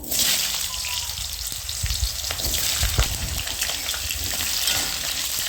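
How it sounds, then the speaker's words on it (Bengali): Potatoes fry in hot oil with bay leaf, dried red chilli, cardamom and cinnamon, giving a steady, close sizzle with occasional crackles and light stirring. "তেলটা গরম হয়ে গেছে এবার আমি তেজপাতা শুকনো লঙ্কা এলাচ দারচিনি নিয়েছি প্রথমে আমি আলুটা ভেজে নেব"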